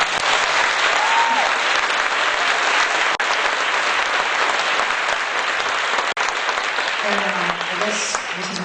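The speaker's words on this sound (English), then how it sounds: "can we give one more round of applause to the 4 people?" An adult school audience at a public conversation event gives sustained, loud applause, a steady wash of many hands clapping throughout with a few sharp louder claps.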